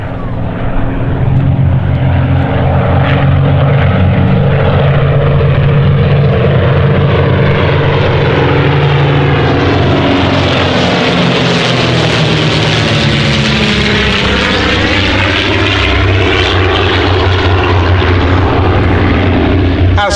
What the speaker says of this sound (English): the white aircraft on the port wing of the DH-88 Comet, the Percival Gull, another aeroplane linked inextricably with British aviation history